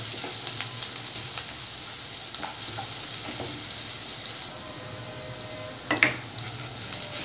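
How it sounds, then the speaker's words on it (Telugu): Chopped onion pieces fry slowly in a pan on a medium flame, giving a steady soft sizzle with occasional clinks of a spoon stirring near the end, close and moderate. "మీడియం ఫ్లేమ్లో పెట్టుకొని అప్పుడు వీటిని ఉల్లిపాయ ముక్కలు వేయించుకుంటే నిదానంగా వేగుతాయి"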